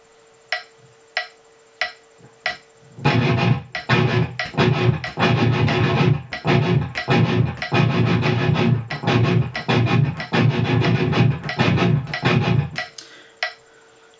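Metronome clicks tick a steady count alone, then a heavily distorted guitar plays a riff in tight, syncopated palm-muted chugs over the clicks before the guitar stops and the ticking continues.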